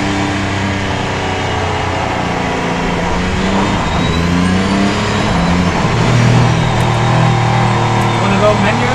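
A Mercedes-AMG One hypercar engine revs and roars steadily on a track, rising slightly in pitch, with excited voices and cheering underneath.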